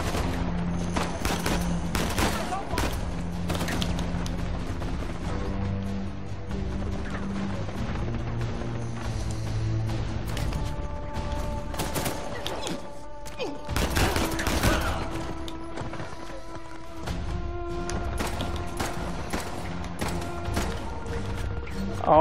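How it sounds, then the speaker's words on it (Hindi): Gunfire in the action video game Uncharted: The Lost Legacy, rapid bursts of shots and crashing impacts layered over game music and effects, loud and dense throughout with frequent sharp cracks. "गोलियां कहां से आ रही है?"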